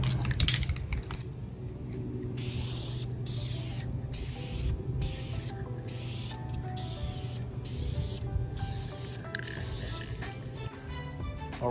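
Clear coat is spray painted onto a Miata valve cover, an aerosol can hissing in steady bursts with short gaps between passes, close to the microphone.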